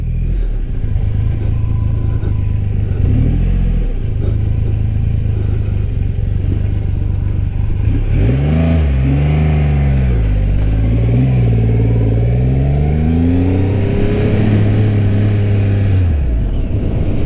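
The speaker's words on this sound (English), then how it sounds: "feels like a Triumph, sounds like a Triumph, and let's see how she rides" Engine of a 2022 Triumph Rocket 3R motorcycle rumbling steadily while riding, then revving up and down through several rising and falling sweeps before settling back to a low throb, loud and close with wind noise.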